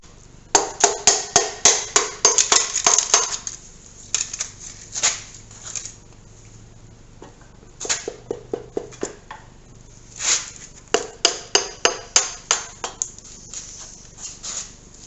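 Rapid bursts of metallic tapping, struck in quick runs with short pauses between, as a hammer handle knocks pistons and rings down into a 302 Ford V8 engine block.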